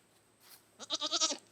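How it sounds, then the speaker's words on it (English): Goats bleating at a farm, a quick run of five or six wavering calls close to the listener after a moment of quiet, loud and clear with no talking over them. "We'll go see the goats in a little bit."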